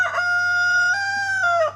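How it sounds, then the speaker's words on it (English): A Whiting True Blue rooster crows once in a hen house, a loud, close, sustained harmonic call with a brief rise partway through and a clipped ending, with a low steady hum behind it. "That's one of our main roosters in the hen house. He is a whiting true blue"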